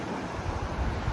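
Loud, steady wind roars across the microphone with a deep rumbling buffet, no voices, like gusts blowing over open water.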